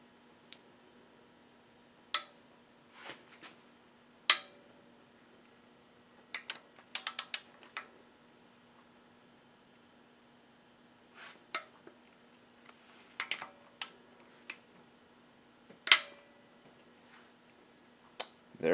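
A ratchet wrench with a 14 mm 12-point socket torques head gasket bolts on a Subaru EJ engine, giving scattered close bursts of sharp clicks separated by quiet pauses.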